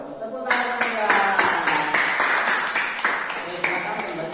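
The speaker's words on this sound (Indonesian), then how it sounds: "Tepuk tangan ya." Classroom audience clapping after a group presentation on hadith about congregational prayer, a loud, dense round of applause starting abruptly after a brief voice and continuing steadily, close by.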